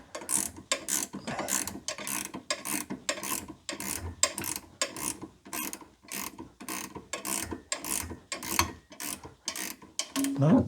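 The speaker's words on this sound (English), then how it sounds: "I can then switch to using the power wrench to run it all the way through." A power wrench runs a bolt into a BMW E87/E90 final drive, its ratcheting rattle repeating in a steady, rapid series of close, sharp bursts for the whole stretch, with no voices.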